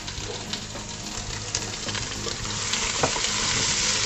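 Tomato paste, garlic and chopped tomatoes fry for a lobster-body stock, giving a steady, close sizzle with a few stirring scrapes and clicks. No one speaks, and the sizzle grows slightly louder toward the end.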